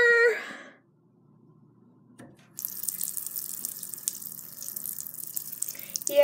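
Water runs steadily from a tap into a sink, starting abruptly after a short quiet gap and continuing as a loud, even hiss and splash up close.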